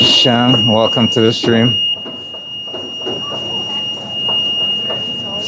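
A kitchen oven alarm emits a steady high-pitched electronic tone that runs continuously in the background while a person talks over it.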